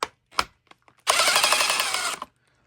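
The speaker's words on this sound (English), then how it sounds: "we're going to loosen up these bolts on our top brace" Bolts on the top brace of a Losi DBXL RC buggy being loosened: a few short clicks, then about a second of steady, close, loud buzzing from a power driver before it stops.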